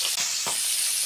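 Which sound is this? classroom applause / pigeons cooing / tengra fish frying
tengra fish frying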